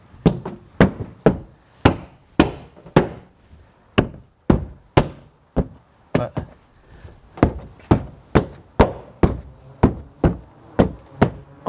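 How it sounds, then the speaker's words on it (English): Rear windshield wiper part on a 2016 Subaru Forester tapped into place, a loud, close run of about two dozen sharp knocks at a steady, quick rhythm, no talk. "You can give it a little bit of a tap."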